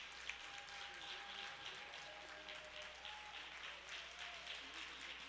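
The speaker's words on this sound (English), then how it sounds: "Let's give her a round of applause." Quiet, distant applause from a church congregation at a birthday celebration for the First Lady, an even patter of many hands clapping with faint voices underneath.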